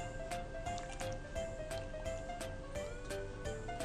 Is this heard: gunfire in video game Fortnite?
no